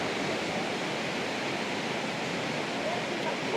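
A stream flowing through jungle, a dense steady rush of water, broadband and continuous, close and unbroken throughout with no distinct voices.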